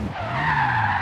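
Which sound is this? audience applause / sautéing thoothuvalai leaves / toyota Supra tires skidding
toyota Supra tires skidding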